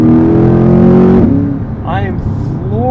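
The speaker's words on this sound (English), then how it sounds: "I am floored by how rapidly it works its way down and up through these gears." A Chevrolet C8 Corvette Convertible's engine holds a loud, steady note, then drops sharply as it shifts gear. A voice then takes over above the fading engine.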